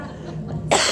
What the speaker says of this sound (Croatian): ja kašljem pa kašljem